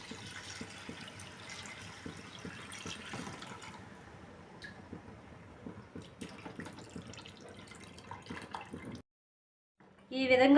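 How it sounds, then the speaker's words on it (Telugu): Tamarind juice is poured into a pot of Andhra-style Divi Seema fish curry, a continuous liquid splashing that runs for several seconds, then stops briefly before a louder clatter. "చింతపండు రసం పోసేసుకోవాలి."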